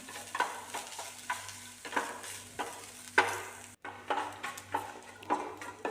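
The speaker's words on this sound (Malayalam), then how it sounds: "അപ്പോൾ നമുക്ക് ഈ തേങ്ങ ഒന്ന് നന്നായി വറുത്തെടുക്കണം നല്ല മൊരിഞ്ഞു വരണം" Grated coconut frying in a pan for a Kerala cabbage upperi stir-fry, scraped and stirred in steady strokes about every half second over a soft, constant sizzle, close up with no talking.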